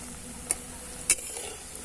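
Jute leaf fritters fry in hot oil with a steady low sizzle, broken by two sharp clinks of a spatula or utensil against the pan.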